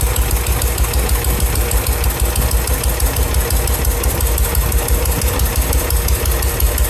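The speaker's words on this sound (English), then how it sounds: "It's idling. Yeah, that's idle. Yeah, your timing got knocked out a little bit." Car engine idling with its distributor timing knocked off after a wreck, a loud, steady, slightly rough rumble with rhythmic knocking pulses that runs unbroken throughout, with no talk.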